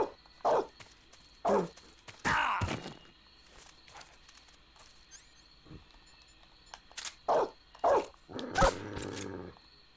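Dog in Metal Gear Solid 3: Snake Eater, a few short growls and barks in separate bursts over a quiet game background, with footsteps and mechanical clicks between them.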